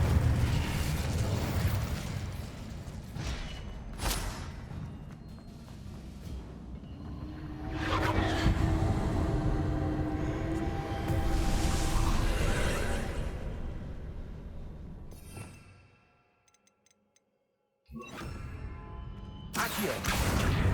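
Magic spells firing in Hogwarts Legacy combat, a dense run of bursts, whooshes and blasts over twenty seconds, loud and continuous, with a brief near-silent gap before the effects resume.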